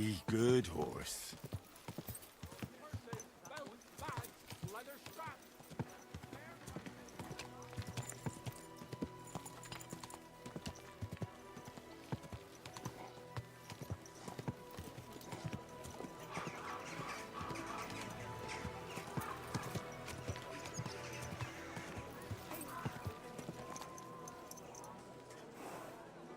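Horse hooves clip-clopping in a steady trotting rhythm with occasional whinnies in the medieval game Kingdom Come: Deliverance 2, heard alongside someone talking and outdoor game ambience.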